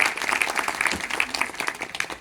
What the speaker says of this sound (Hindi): जोरदार तालियों के साथ उनका स्वागत और अभिनंदन किया